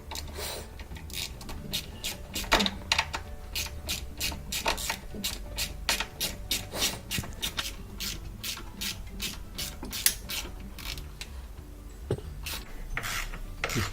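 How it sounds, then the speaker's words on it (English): Bolts being removed from a Bosch washing machine with a ratchet, giving a fast run of close clicking pawl strokes, fairly steady, with a short pause near the end and no talk. "I'm going to remove these 2 10mm bolts."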